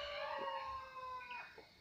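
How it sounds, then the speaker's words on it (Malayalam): Roosters crowing in the morning near a house, a faint drawn-out crow with a second answering call, quiet and somewhat distant. "രാവിലെ ആയതുകൊണ്ട് അവിടെ ഒരു കോഴി, അപ്പുറത്തൊരു കോഴി"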